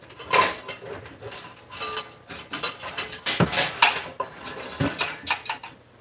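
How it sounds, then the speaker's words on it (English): Metal cookie sheet set down on top of a baking pan in a home kitchen, giving a series of close, loud clanks and scrapes of sheet metal with rattling, pan-on-pan knocks spread across several seconds, with no talking. "I like to put a cookie sheet on top because you got to cover it."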